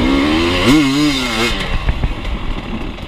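A KTM motorcycle on a race track at The Pines, its engine buzzing loud and near, pitch rising and dipping briefly before the whine fades into rougher, grittier noise.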